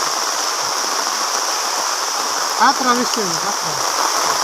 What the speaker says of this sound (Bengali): এত বৃষ্টি পড়তেছে